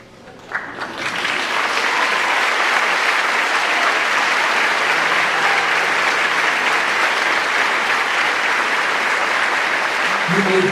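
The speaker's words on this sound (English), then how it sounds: "I didn't have to tell anybody to clap." A large audience at a senior awards night for the class of 2022 breaks into loud, sustained applause that swells within a second and holds steady, dense and even, for the full length.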